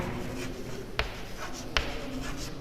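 Pen or marker strokes on a board or paper during a physics lecture, a steady scratchy writing texture with two sharp taps, close and fairly quiet with no talking.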